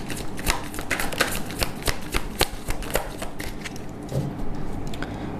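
Tarot cards being shuffled in a deck, a rapid run of crisp riffling flicks close up with no talk.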